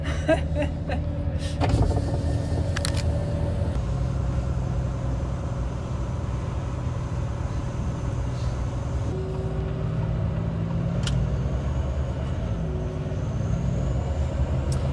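A Volvo FH13 truck driving, its diesel engine giving a steady low rumble with road noise throughout, shifting pitch slightly as it moves, with a few brief clicks and hisses along the way.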